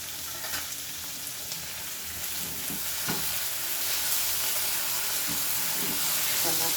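Tomato puree fries with paneer in a pan for a masala pasta dish, giving a steady, fairly loud sizzle with bursts of steam hiss. Scattered stirring knocks come through now and then, and no one speaks.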